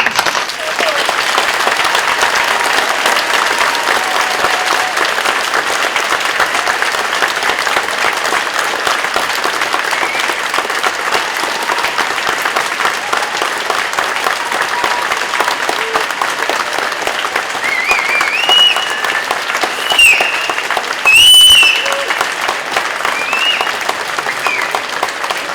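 Applause for graduates at a Birmingham degree ceremony: a large hall crowd clapping steadily and densely for the whole stretch, swelling into a brief louder burst near the end.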